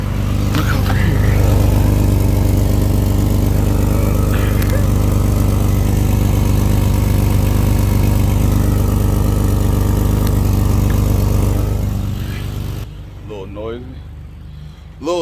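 An old Buick's engine idles steadily and loudly up close, a continuous low rumble that cuts off near the end, followed by a brief quiet stretch with some faint sounds.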